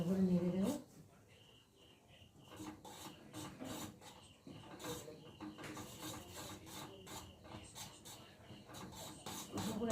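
Maggi noodles cooked in milk are stirred in a pan with a utensil, making irregular scraping and rubbing strokes. The sound is soft and close, with a brief voice at the start.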